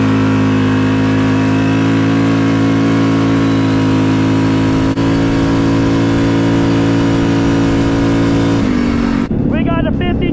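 Yamaha Grizzly ATV engine held at high revs in a cold setting, a loud sustained steady drone that drops abruptly near the end, followed by brief rough sputtering.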